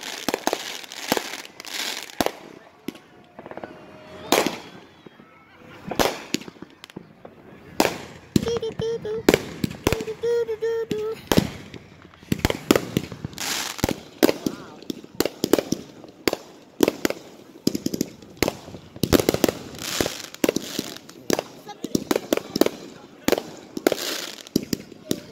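Fireworks at Milford Beach go off close by in a rapid, irregular barrage of sharp bangs and crackles lasting throughout, with a few voices faintly heard between blasts.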